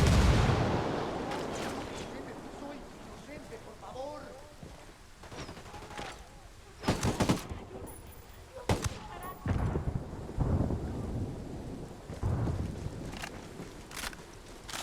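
A frag grenade goes off in the Tom Clancy's Ghost Recon Wildlands video game, a sharp booming blast among scattered gunfire bursts, with a person talking over the game sound.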